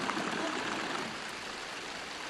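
Flowing water in the Alhambra gardens in Granada, a soft continuous rush and trickle like a fountain channel or small stream, steady and fairly faint with no voices.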